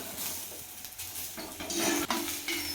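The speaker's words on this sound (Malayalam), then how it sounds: "അപ്പോൾ അതേ അമ്മ ഇത് നന്നായിട്ട് ഇളക്കി കൊടുക്കുന്നുണ്ട് കേട്ടോ" Chopped taro stems being stirred in a pot for thoran, a few close scraping and clinking strokes of a spoon against the vessel with a light sizzle underneath.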